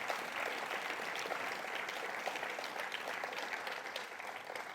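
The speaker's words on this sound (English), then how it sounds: "Another round of applause for Jim Sears, everybody." Audience applause for Jim Sears at a NASA Deep Space Food Challenge finale, a steady dense wash of clapping from a large crowd held at an even level for the whole stretch.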